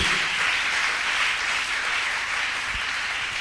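A church congregation applauding together, a steady broad wash of clapping that holds evenly throughout at moderate loudness, with no talk over it.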